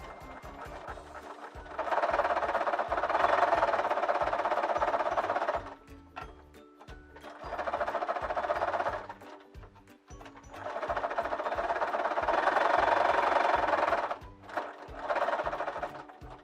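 Sewing machine stitching fabric for a gnome craft, running in several long whirring bursts separated by short pauses with light clicks, up close and alone.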